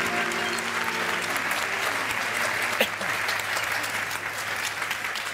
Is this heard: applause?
yes